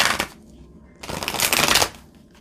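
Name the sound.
riffle shuffling oracle cards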